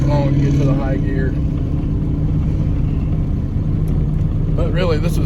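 A 1932 Ford Model B engine rumbles steadily while driving in high gear, a low continuous drone under someone talking at the start and end.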